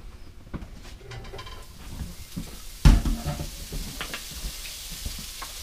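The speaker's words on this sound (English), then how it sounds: "I'm going to put my sausage in here and let it start sauteing with my onion" Sausage and onion sauté in a pan in an RV kitchen, a steady soft sizzle with light stirring and a brief louder clatter of cookware partway through, no talking.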